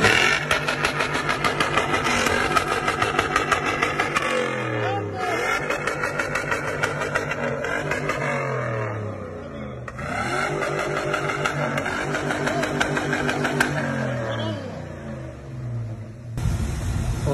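A 1977 GMC pickup's rebuilt 6.0L engine runs close and loud, idling between repeated revs that climb and fall back several times, with no talking.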